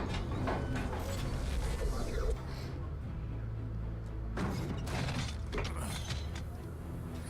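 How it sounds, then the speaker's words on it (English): Wooden creaking of a boat in the Metal Gear Rising video game, a low groaning mechanical strain with occasional clicks, heard steadily over a dense rumbling background. "it's the creaking of the boat that woke me"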